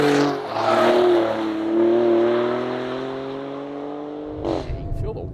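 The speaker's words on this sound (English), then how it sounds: "And that exhaust note is so cool." A Maserati Grecale Trofeo SUV accelerates on a race track with a loud, steady rising exhaust drone that climbs in pitch through the gears, then shifts abruptly near the end.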